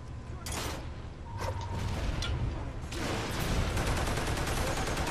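An anti-infantry turret in the Toy Soldiers: War Chest video game fires dense, loud rattling bursts that run continuously, layered with mechanical clatter and game battle noise.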